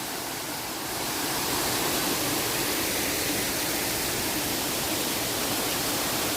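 Kattar falls pouring through forest in the Veerappan region: a continuous, full-bodied rush of cascading water, loud and near, swelling slightly in the first second and then holding steady without any voices.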